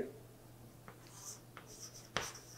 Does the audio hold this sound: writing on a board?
yes